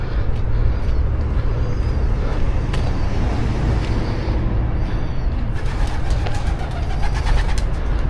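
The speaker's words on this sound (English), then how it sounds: "Sorry pigeons to disturb you." Soft pigeon coos sound beside a canal towpath in Sheffield over a constant background hum of traffic, with a few faint bird calls near the end.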